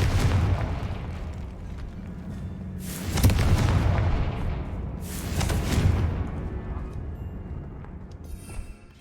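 A Confringo spell in the Hogwarts Legacy video game sets off two booming explosion bursts over a rumbling game soundscape, each blast swelling and then fading out.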